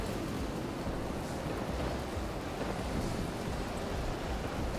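Steady roar of stormy ocean waves and wind in the naval combat game From the Depths, a dense unbroken wash of noise with no voices.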